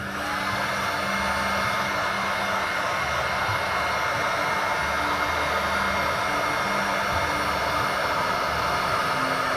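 A heat gun warms vinyl decals on a Ducati Desert X motorcycle, giving a steady, loud blowing whoosh with a low motor whir that runs unbroken throughout, with no talking.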